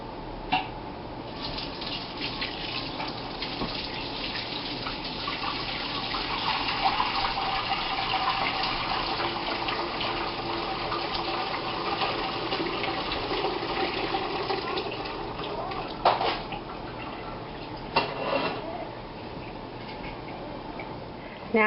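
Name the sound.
chicken stock poured through a strainer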